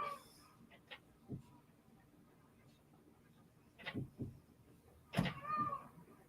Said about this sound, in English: Please ignore my cat.